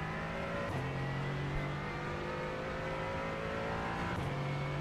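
A Porsche sports car engine in the iRacing sim at Long Beach holds a steady, loud drone with slight pitch shifts through corners, running alone without talk.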